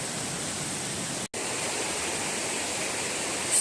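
A stream beside a hiking trail rushes in a steady, close, broadband wash of flowing water, alone and unbroken.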